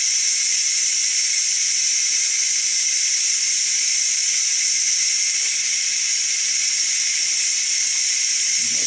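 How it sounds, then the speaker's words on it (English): Hot steam hisses steadily out of the release valve of a Ninja Foodi pressure cooker while baby back ribs cook inside, a loud, constant, unbroken rush with no voices over it. "don't put your hand over top of this real close, because that is hot steam coming out of there."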